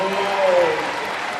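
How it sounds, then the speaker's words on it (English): A crowd at an Elma versus Overlake state regional high school basketball game gives a standing ovation to an Elma senior, loud sustained applause with a voice briefly over it. "Another one of these Elma seniors getting a standing ovation"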